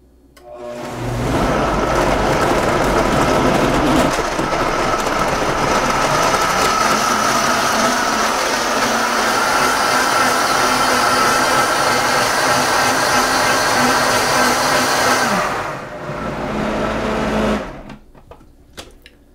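A blender whirs loudly and steadily for about fifteen seconds, blending a purple berry smoothie with water poured over the ingredients, then slows and cuts off, with a brief fainter run before silence.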